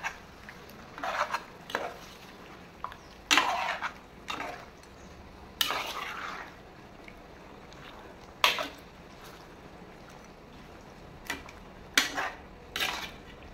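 Masala paste being stirred in a pan for Telangana-style chicken curry, with intermittent scrapes and clinks of a spoon against metal at an irregular pace, close and moderately loud over a quiet background.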